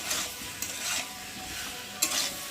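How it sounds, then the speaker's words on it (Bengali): Pre-fried pointed gourd stir-fried with spices in oil in a pan, giving a steady close sizzle with a few louder scraping stirs of the spatula. "আর এখন আমি এই যে ভেজে রাখা পটলগুলোকে দিয়ে একটু ভালো করে মশলার সাথে কষিয়ে নেব"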